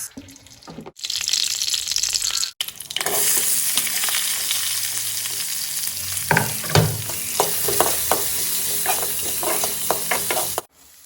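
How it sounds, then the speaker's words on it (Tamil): Onions and fennel seeds sauté in hot oil in a pan, giving a loud, steady sizzle broken by clattering stirring strokes and short scrapes, with a brief pause near the start and the sound cutting off at the end. "அடுத்து பாத்திரத்தில் ஆயில் சேர்த்து கொஞ்சம் சோம்பு, 3 பெரிய வெங்காயம் கட் பண்ணி சேர்த்து வதக்கிடுங்க."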